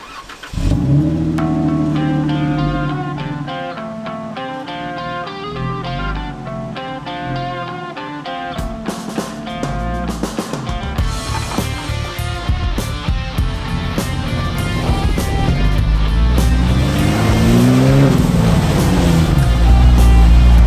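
A Jeep towing a teardrop trailer pulls away on a dirt road, its engine loud and close as it starts, revs and rises in pitch while accelerating, with road rumble building underneath.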